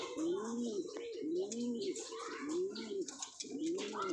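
Pigeons coo in a repeated, rolling rhythm close by, several soft throaty calls in a row with faint chirps and background noise.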